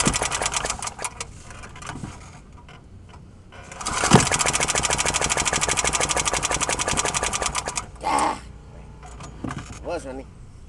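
An old lawnmower engine sputters in a cold start, catches and runs at a rapid, rattling idle for several seconds, then cuts out and briefly stutters again, recorded close by.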